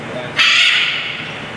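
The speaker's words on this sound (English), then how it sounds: "just chatty bird here is called a red-fronted macaw" A red-fronted macaw at the Tulsa Zoo lets out a single loud, harsh squawk that starts abruptly and holds for over a second, close by against faint background noise.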